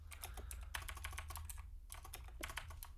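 Fingers type steadily on a computer keyboard in a quick run of clicky keystrokes, pausing briefly midway, over a constant low hum.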